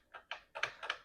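Keys clatter on a TRS-80 Model 1 computer keyboard, four quick, close, clicky strokes in an uneven rhythm with no other sound.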